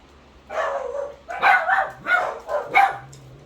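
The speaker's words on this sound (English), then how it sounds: "They decide to bark when I video." Several dogs bark indoors in four loud bursts, close by and clear, with a short pause between each bark.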